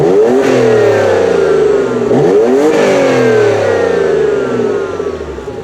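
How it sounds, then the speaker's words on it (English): A 2017 Porsche Macan S with quad-tip exhaust revs loudly up and down, the engine pitch climbing and falling in sweeping repeated pulls, close and alone. "Here's an exhaust clip so you can hear it for yourself."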